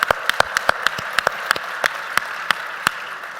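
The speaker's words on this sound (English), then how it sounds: "please give yourselves a big round of applause" A small group of workshop participants claps in a loose, scattered burst of about a dozen distinct sharp claps over a few seconds, close and fairly light, with no voices.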